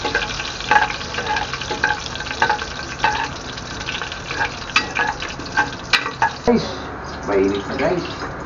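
Food frying in a pan of oil while being stirred to keep it from splattering, a busy crackling sizzle with rhythmic scraping strokes, a voice talking briefly near the end.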